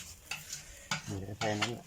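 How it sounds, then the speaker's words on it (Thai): Chopped garlic sizzles over low to medium heat, with steady frying hiss broken by clattering stirring strokes against the pan. "อันนี้คือกระเทียมกระเทียม ย่างไฟอ่อนๆ ไฟปานกลาง"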